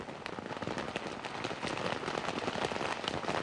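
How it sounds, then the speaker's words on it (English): Heavy tropical downpour beating directly on a camera, a dense, loud, crackling patter of drops hitting close up that sounds almost like gunfire and never lets up. "it's the rain beating on the camera during the typically tropical downpour"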